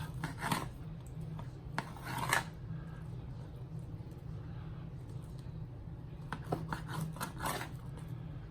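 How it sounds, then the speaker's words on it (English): A knife slices pork into bite-sized pieces on a board, giving a few soft, scraping cuts in short bursts with quiet pauses between them. "And you just want to cut them into bite-sized pieces."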